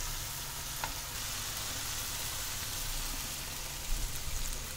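Black chickpea curry, coarsely ground and mixed, frying and sizzling softly in a pan with occasional stirring scrapes, a steady quiet crackle close by with no talking.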